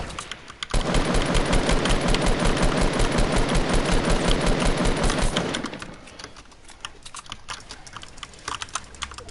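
Rapid automatic gunfire in Fortnite, a sustained burst of loud, evenly spaced shots for about five seconds, then fading into quieter ambient game noise.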